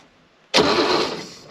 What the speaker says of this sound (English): Let's give it a crank and make sure it's not seized.